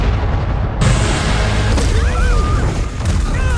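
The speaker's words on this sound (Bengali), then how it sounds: "ওয়েল শিল জেনারেটরে গুলি করতেই বুম!" A loud, booming explosion as a generator is shot in a Stranger Things scene, a dense rumbling roar that sustains across the whole moment with scattered debris-like crackles layered through it.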